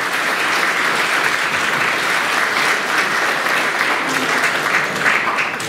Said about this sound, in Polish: Jeszcze raz gorące brawa dla wszystkich wykonawców